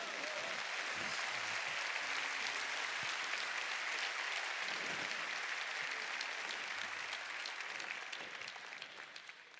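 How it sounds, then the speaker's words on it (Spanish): Church congregation applauding loudly and continuously, a dense sustained wash of clapping from a large crowd that fades slightly toward the end, with faint voices beneath. "Dale fuerte el aplauso al Señor"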